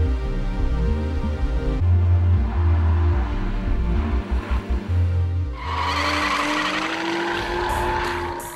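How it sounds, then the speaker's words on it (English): A rear-wheel-drive car drifts through a corner: a loud engine drone gives way to a sustained, rising tire squeal and skid as the car slides, heard up close. "So to the Kansai drift or power over drift, you approach the corner at full speed, lift off the throttle"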